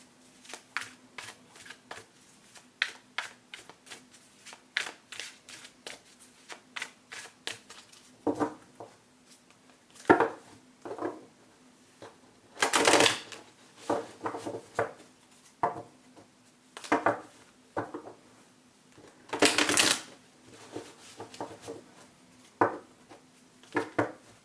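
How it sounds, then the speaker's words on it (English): Tarot cards being shuffled by hand in a series of quick riffles and soft slaps, coming in bursts with short pauses between them, close and clear with no talking. "Just a few more shuffles here."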